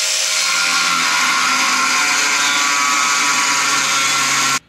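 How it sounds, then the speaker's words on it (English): A power tool cuts through angle iron, a loud, continuous high-pitched grinding whine that runs steadily for several seconds and stops abruptly at the end. "we got some angle iron here. We're gonna cut a couple pieces we need."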